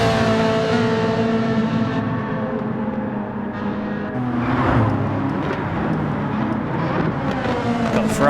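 Ferrari race car in Gran Turismo 7 racing, its engine steadily loud and droning through a long run of downshifts, with other cars' engines layered underneath and a voice talking over parts of it.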